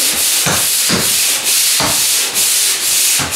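A ceiling is lightly sanded before skimming. Loud, rhythmic rubbing strokes sweep back and forth across the surface, close and continuous, with no talking.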